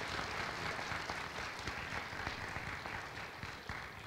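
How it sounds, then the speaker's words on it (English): A ceremony audience applauds an absent award recipient, steady dense clapping that fills the room and holds at an even level from start to finish. "let's please give her a round of applause"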